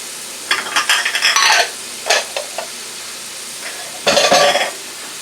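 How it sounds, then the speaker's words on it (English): Onions, red onions, scallions and red and orange peppers are stirred in a hot pan, giving three loud bursts of scraping and sizzling with quieter gaps between and no talking. "I'm going to add the onions, red onions, scallions, red and orange peppers"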